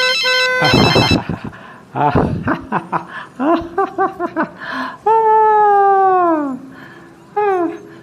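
A telephone ringtone plays as an incoming call arrives, a melodic electronic tune with repeated tonal phrases and swooping notes, fairly loud and close, with brief laughter-like bursts between the phrases.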